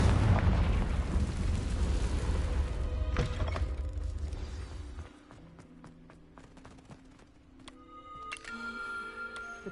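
A Confringo blasting spell in Hogwarts Legacy sets off a loud, rumbling explosion that fades over several seconds, followed by quieter clicks and chimes from the game.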